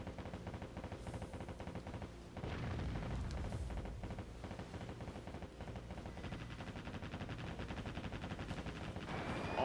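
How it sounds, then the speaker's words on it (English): Warship anti-aircraft guns fire at enemy planes in the Warship Gunner 2 video game, a dense continuous rattle of rapid gunfire with heavier booms mixed in, at moderate level and with no voice over it. "There's already aircraft in the air because my guns are shooting at it."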